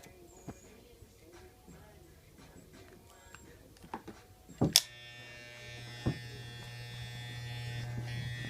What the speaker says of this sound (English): The Andis Masters. Yo, pretty good clipper, man.